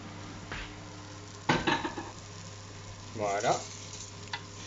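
Sweated sweet onion and Ebly wheat cook in a pan like a risotto, with a soft sizzle under scattered stirring scrapes and a short spoken word.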